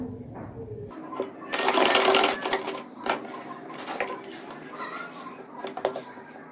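A sewing machine stitches lace onto a dress neckline in short bursts of rapid mechanical whirring, the longest a couple of seconds, separated by clicks and pauses.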